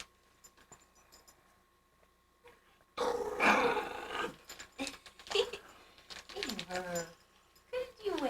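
A pet dog growling and snarling in a garage at Christmas, low rumbling growls in bursts after a quiet start, with people talking nearby.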